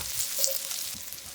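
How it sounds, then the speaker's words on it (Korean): Thin-sliced pork belly stir-frying in a pan with onion and green onion, a steady close sizzle with light stirring scrapes throughout, no voices. "색깔 나기 시작하면 양파, 대파 넣고 골고루 볶아 향긋한 대파 기름을 내주고요"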